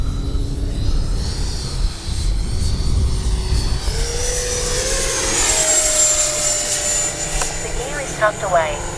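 A Freewing 90mm J-10 RC jet comes in to land with its gear down, its turbine whine climbing in pitch and growing louder as it passes close, under a steady roar.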